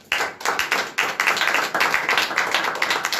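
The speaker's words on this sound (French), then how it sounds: "Applaudis pour l'Éternel." A church congregation at a revival worship service in Yaoundé claps in a fast, fairly even rhythm, sharp close claps repeating steadily without talk.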